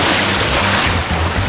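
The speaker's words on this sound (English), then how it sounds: "That's the sound of cool, refreshing water as you splash into your new radiant pool from ASP" A loud, dense splash of water into a new swimming pool crashes as a broad continuous wash of noise with no talking.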